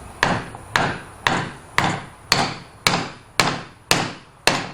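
Eight sharp hammer blows drive a wooden stool leg into its hole at a steady pace, each a hard knock with a short ringing decay, close and alone.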